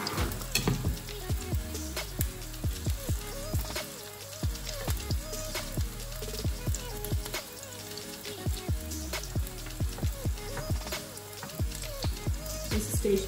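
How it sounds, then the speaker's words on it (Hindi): Vegetarian kebabs fry in hot oil in a pan, a soft crackling sizzle under repeated clinks and taps of a utensil against the pan, fairly quiet and close. "इस स्टेज पे इसको बिल्कुल भी हाथ नहीं लगाने, ये फ्राई हो रहा है"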